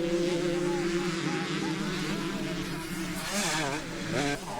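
A motocross bike at a veterans' race at Farleigh Castle revs and whines as it comes down a hill, its engine note rising and falling at moderate distance over a steady background roar.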